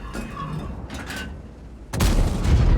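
A KV-4 tank cannon fires in World of Tanks: faint mechanical noises, then a loud, heavy blast with a rumbling tail that carries on to the end.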